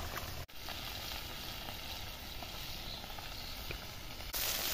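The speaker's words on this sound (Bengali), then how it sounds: "এই তরকারি মাছটা খুব ভালো করে ভাজতে হবে, কড়া কড়া করে।" Tengra fish fry to a crisp in a pan of hot oil, a loud continuous hissing sizzle that holds steady throughout after a brief dropout near the start, with no talking.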